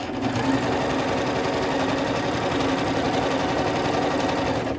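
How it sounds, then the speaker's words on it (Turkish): An Elmas 990P sewing machine runs a straight stitch with a steady, fast, even mechanical whir and needle chatter. The sound stays close and constant, with no one speaking. "Düz dikiş yapıyoruz."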